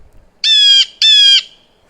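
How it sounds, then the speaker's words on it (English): Blue jay calling in a park: two loud, harsh, nasal squawks in quick succession, each about a third of a second long, close and clear against a silent background. "a blue jay,"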